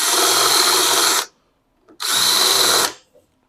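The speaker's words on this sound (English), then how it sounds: "So get the next one drilled" A power drill bores holes in a steel hitch bar in a shop. Two loud, close, high-pitched whining bursts of about a second each are separated by a short pause and a faint clunk.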